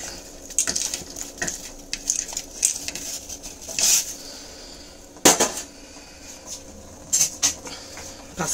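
Dry pasta goes into a pot of boiling water for white sauce pasta, followed by stirring: scattered soft clinks and clatters against the pot, with a few sharper knocks, all fairly quiet and with no voices.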